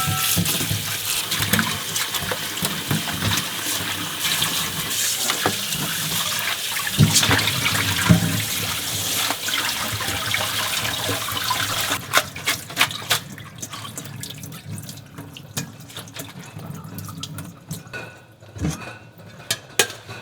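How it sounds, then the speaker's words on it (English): Cold tap water runs over pork bones in a kitchen sink, a steady splashing stream with clinks of bones and a pot, easing into intermittent drips and knocks toward the end. "And then I like to rinse in cold water."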